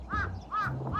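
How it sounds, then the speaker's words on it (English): Crows caw from under a bridge in repeated harsh calls, about three caws in quick succession, loud and near, with no talking. "I can hear so many birds."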